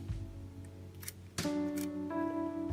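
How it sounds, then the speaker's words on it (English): Voigtlander Bessa camera shutter set to T, opening on one press and closing on the next: small sharp mechanical clicks amid faint handling noise, close and quiet, with a background hum. "I think you can see the shutter opening and closing."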